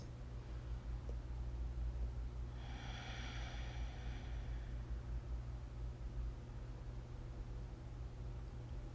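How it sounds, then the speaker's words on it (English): A single slow, deep breath during a yoga stretch, a soft airy rush lasting a couple of seconds over a steady low hum, quiet and close. "Take some nice big breaths."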